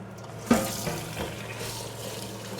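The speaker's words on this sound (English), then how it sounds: "we're going to wash our rice before we get started" Tap water running into a kitchen sink while rice is rinsed before cooking, a soft steady stream with a brief louder splash near the start as the grains are stirred.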